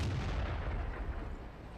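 Tank cannons firing in World of Tanks, a continuous heavy rumble of booming shots while the tanks keep moving, loud and dense with no voices.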